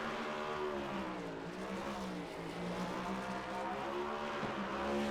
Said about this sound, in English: Letting Nance do his victory burnouts here